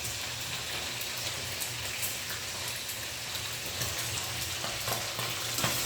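A spice mixture called lamas frying in a pan, giving a steady, dense sizzle that stays even and fairly close throughout with no pauses.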